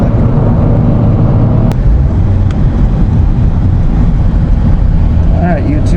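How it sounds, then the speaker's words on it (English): A Honda Civic heard from the driver's seat while cruising, a steady loud low rumble of engine and road noise that stays constant throughout, with a faint brief tone near the end. "POV driving my Civic."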